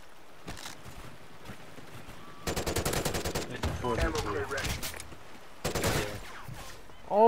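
Rapid automatic gunfire bursts in the video game Call of Duty: Ghosts, two main volleys of fast repeated shots at moderate loudness with softer game noise between them.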